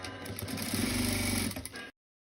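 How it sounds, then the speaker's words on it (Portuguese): A sewing machine topstitches a seam on a Helena cloth doll, stitching steadily and fairly close for about two seconds before stopping abruptly. "eu vou rebater costura"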